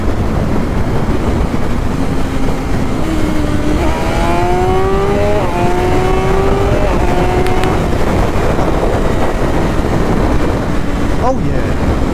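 A BMW S1000RR sportbike with an unlocked ECU pulls hard in sixth gear, its engine note rising steadily under strong wind roar, with a voice speaking over the ride.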